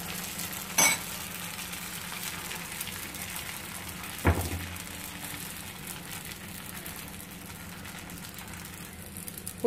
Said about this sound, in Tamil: கருப்பட்டி தோசை சுடுவோமா?